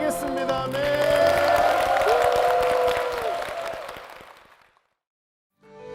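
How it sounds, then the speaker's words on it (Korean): A church congregation claps together in worship, a broad swell of applause joined by a sustained musical tone and organ-like chords, fading out toward silence before a brief new sound begins at the very end. "주님께 영광의 박수를 드리겠습니다."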